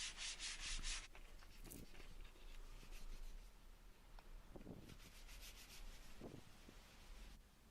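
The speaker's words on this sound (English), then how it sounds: "I just quickly gave it all a hand sanding going around the edges to make everything nice and smooth" Steady scratchy rubbing of sandpaper by hand along the edges of cut scrap-wood pieces, continuous strokes with brief shifts in pressure, close and moderately loud, no voices.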